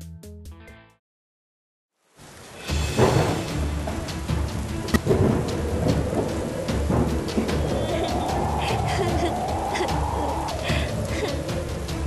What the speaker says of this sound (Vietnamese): bão sắp tan rồi